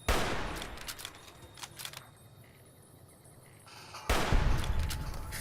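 Gunfire in the video game Fallout New Vegas: a dense burst of rapid shots at the start, then a quieter stretch, followed by another loud volley of firing near the end.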